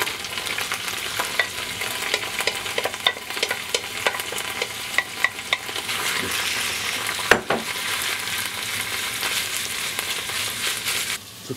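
Ground meat for taco rice fries in a hot pan, a continuous bright sizzle with frequent spatula scrapes and taps as it is stirred, one louder clatter partway through.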